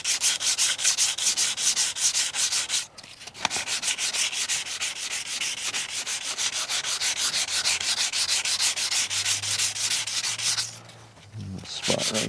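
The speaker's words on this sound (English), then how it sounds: "I thought I was done with the major sanding" Steady, rapid sanding rasps against the siding of a vintage truck camper up close, continuing for several seconds with two brief pauses before resuming.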